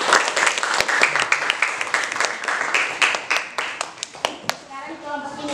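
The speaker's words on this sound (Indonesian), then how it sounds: "oke semua berikan aplaus saja" Audience applause at a school event in Gorontalo: a steady wash of many hands clapping, fairly close and loud, with a few sharper claps standing out before it thins toward the end, where a voice begins.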